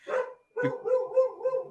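A dog barks several times at close range, a sharp first bark, a brief pause, then a run of rapid barks and yips in an otherwise quiet room.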